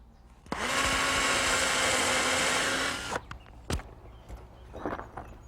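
A power drill drives a screw into a greenhouse ridge cap over a rafter: one loud, steady whir lasting about two and a half seconds, then a few soft knocks and handling sounds.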